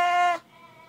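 A sheep bleats after receiving an injection in the neck, giving a single short, close bleat that cuts off sharply, followed by quiet.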